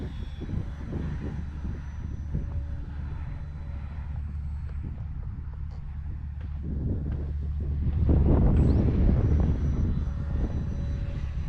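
A Hobby Zone Carbon Cub S2 RC airplane doing grass hops on a very windy day gives off a buzzing electric-motor drone that swells louder partway through, heard over heavy low wind rumble on the microphone.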